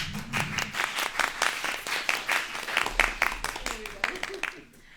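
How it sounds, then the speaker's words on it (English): A student election debate audience applauds with steady, dense clapping that carries on throughout, fairly close and moderately loud. "you can all clap now"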